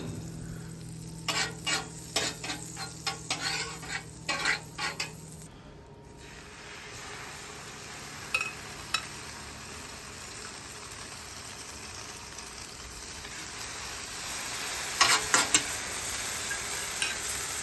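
French toast sizzling in butter on a flat griddle, starting with a quick run of clattering stirs and scrapes over a steady fry hiss that continues quietly with a few later taps, no speech.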